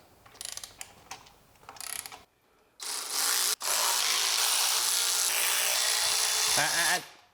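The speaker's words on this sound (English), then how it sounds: "I'm clicking my torque wrench" A torque wrench clicks and ratchets while clutch bolts are tightened on a twin-disc clutch for a Katech LS7 engine; a few short mechanical bursts are followed by a longer, louder, continuous run.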